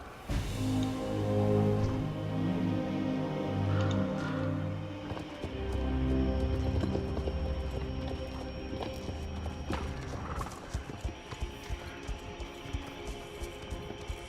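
Horse hooves clip-clop in an uneven rhythm over steady layered music in the game Star Stable, with a brief horse whinny partway through.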